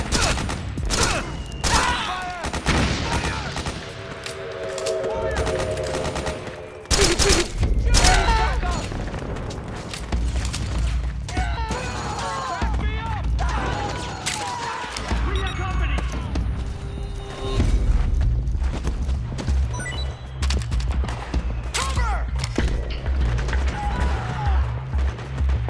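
Gunfire from the video game Metal Gear Solid 4: Guns of the Patriots, loud dense bursts of rifle and machine-gun fire with booms and crashes, soldiers shouting over the battle throughout.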